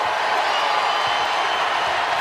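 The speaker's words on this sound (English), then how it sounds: "Crowd has been re-energized." A basketball arena crowd during a Kentucky versus Tennessee college game, a dense, steady roar of cheering and noise filling the whole moment without a break.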